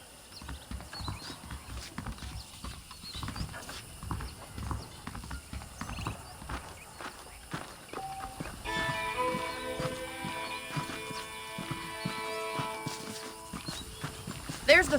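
Horse hooves clip-clop steadily in the Red Dead Redemption video game, a rhythmic walking gait on dirt with a brief whinny, joined later by game music and a talking voice.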